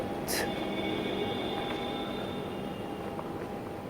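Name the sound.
subway train running through an empty metro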